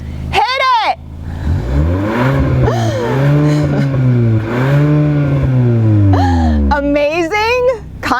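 A Hyundai Sonata Ultimate sedan with a 180-horsepower engine and automatic transmission accelerates hard in sport mode, its loud engine note rising and falling through gear changes for several seconds.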